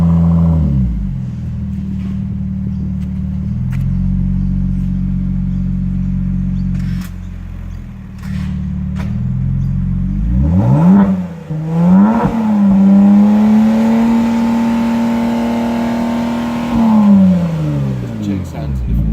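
Australian-market Kia Stinger with a bimodal exhaust idling with a steady low drone, then revving up to a sustained higher roar that holds for several seconds before dropping back, with voices heard nearby.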